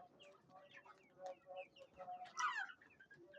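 Desi chickens cluck and chatter softly in their enclosure on a poultry farm, a cluster of short calls, fairly quiet, with a faint voice murmuring underneath.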